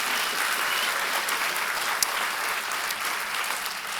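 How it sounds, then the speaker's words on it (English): An audience at a cryptography conference rump session applauds, a dense and steady wash of clapping that holds at an even level for the whole stretch, with a brief faint voice underneath. "So please give her all them an applause."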